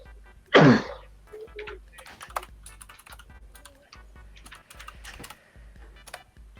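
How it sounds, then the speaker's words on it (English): Clicky computer keyboard keys tap in quick irregular bursts close to the microphone during a streamed movie-guessing game, with one louder thump near the start and no voices over it. "chat, I'm sorry for my clicky keyboard"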